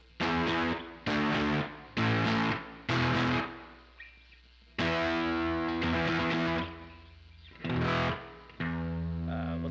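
An electric guitar runs through a KarenX overdrive pedal with the treble set all the way up, giving a bright, gritty tone as a series of distinct strummed chords ring out and decay with short gaps between them.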